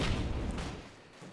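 Aerial torpedoes launching and striking in the airship battle game Airships: Conquer the Skies, a dense rumbling blast that fades over about a second, fairly loud and close.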